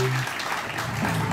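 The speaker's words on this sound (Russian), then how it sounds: "Ваши аплодисменты" An audience at a Joker stage show claps in a sustained burst of applause. A brief tonal sound rings out at the start, and a faint voice may sit beneath the clapping.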